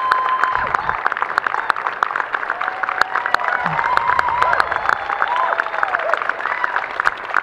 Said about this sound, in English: Much clapping and cheering from ringside.